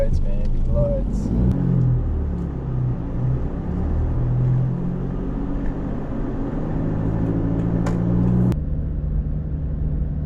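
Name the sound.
vehicle driving past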